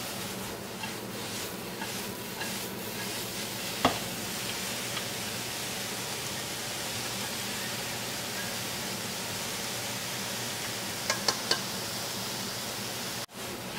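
Soy sauce chow mein with bean sprouts tossed in a wok over high heat gives a steady, even hiss of sizzling that holds throughout, with a few faint clicks near the end.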